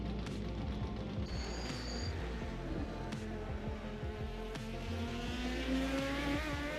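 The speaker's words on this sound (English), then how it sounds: "Blimey, that car's loud." A loud race car engine in a video game roars and revs continuously close by at Circuit Paul Armagnac, with rising pitch, tire squeals and no talking.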